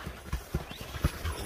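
A horse's hooves clip-clop in quick, irregular, faint thuds as the animal spins in place on the spot.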